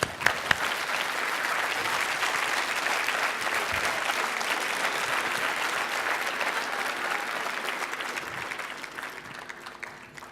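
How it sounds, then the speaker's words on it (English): A standing audience claps together for about ten seconds, a thick, even roar of hands that starts with a few scattered claps, holds steady, and thins slightly at the end. "I want you to clap until I tell you to stop"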